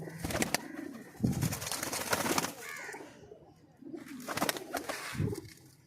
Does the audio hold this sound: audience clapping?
no